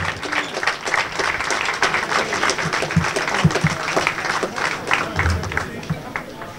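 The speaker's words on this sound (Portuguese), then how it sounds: "Uma salva de palmas para eles também." An audience at a football club's youth section presentation breaks into sustained applause, dense and lively clapping filling the hall, with crowd murmur and some voices mixed in.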